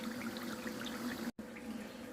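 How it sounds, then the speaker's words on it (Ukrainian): Taranchuk fish stewing with onion bubbles hard in a pan, a continuous close simmering hiss and gurgle with one brief dropout. "Тут булькає дуже сильно у нас."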